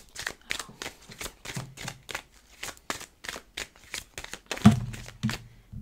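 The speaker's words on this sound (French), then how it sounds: "Je vais rebattre les cartes" Tarot cards reshuffled by hand, close up: a quick run of crisp riffling snaps and soft slaps in an uneven rhythm, ending on a heavier thump.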